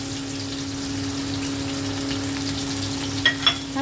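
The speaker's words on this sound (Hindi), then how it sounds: "ऑयल हमारा गरम हो चुका है। अब हम इसमें प्याज डालेंगे।" Medium-sized sliced onions frying in hot oil, a steady close sizzle with a low constant hum beneath and a couple of brief clinks near the end.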